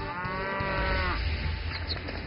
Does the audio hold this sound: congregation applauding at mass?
no